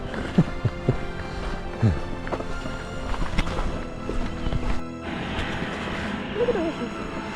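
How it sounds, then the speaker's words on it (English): Horse hooves clip-clop at a walking pace on a hard bridge surface, with steady ambient noise and a brief gap midway. "Look at the horses."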